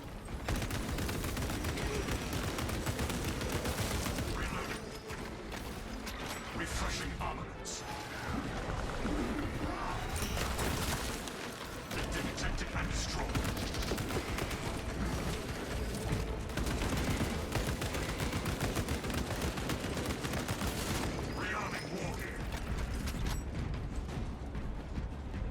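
Auto bolt rifle gunfire in the Space Marine video game, with continuous rapid automatic shots and explosions filling the whole stretch loudly. Brief talk is heard under the shooting.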